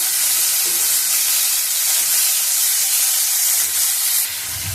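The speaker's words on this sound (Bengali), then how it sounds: "তেলটা গরম হয়ে গেছে চিংড়ি মাছটা আমি ভেজে নেব" Shrimp frying in hot oil, a steady loud sizzle and hiss close by that holds evenly throughout, with faint crackles near the end and no talk.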